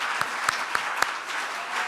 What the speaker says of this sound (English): A very warm applause.